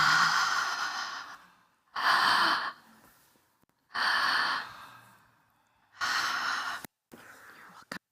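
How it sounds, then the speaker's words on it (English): Deep open-mouth breaths in a breathwork session, four long airy exhalations about two seconds apart with quiet pauses between, close and fairly loud, ending with a shorter breath and a brief catch. "begin the 3-part breath. Open mouth, breathing into the belly, into the chest, and out through the mouth."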